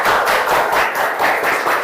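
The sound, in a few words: audience clapping hands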